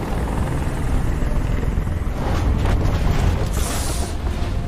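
Helicopter in a video game: a loud, continuous rotor roar with deep rumble, sustained throughout with no speech over it.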